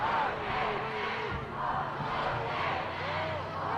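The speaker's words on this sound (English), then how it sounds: "Home crowd starting to get a little louder here, which is good to hear." Home crowd at a high school football game between Roseburg and Beaverton, a broad steady roar of cheering voices filling the stands, rising slightly, with scattered shouts and a commentator's voice intermittently over it.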